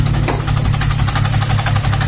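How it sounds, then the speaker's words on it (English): A car engine runs with a steady, rapid knocking beat under its low rumble, close and continuous throughout. "the car has developed some sort of knocking."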